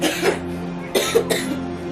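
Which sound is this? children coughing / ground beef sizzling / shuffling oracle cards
children coughing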